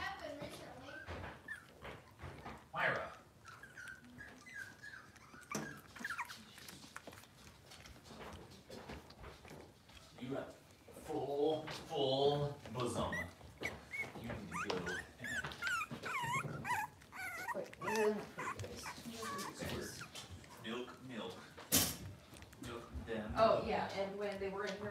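Cavalier King Charles spaniel puppies and adult dogs in a bedroom whimper, yip and bark in scattered bursts, with occasional growls, while people talk throughout.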